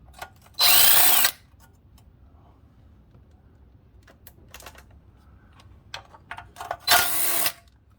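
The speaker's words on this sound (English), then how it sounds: "Could use an impact to be way faster to take them out, which I think I'll do." An impact driver removing oil pan bolts from a 2009 Jeep with a 3.8 engine gives two short, loud whirring bursts several seconds apart, close by, with faint clinks of tools handled in between.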